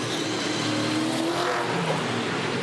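A 2013 V8 Supercar roars past at the Gold Coast 600 street race, its engine a loud, continuous, close snarl that shifts in pitch as it goes by.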